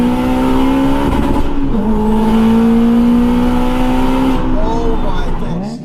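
A Honda Type R car engine holds a loud, steady, droning rev near the listener, dips briefly in pitch, then sustains again before easing off at the end.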